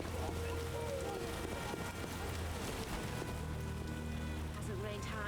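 Hard rain in The Witcher video game: a steady, soft hiss of rainfall on surfaces continues throughout at low volume, with faint wind and game ambience layered beneath.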